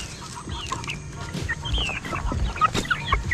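Chickens cluck and squawk while being fed feed, several birds close by with short overlapping calls and pecking sounds, no talking.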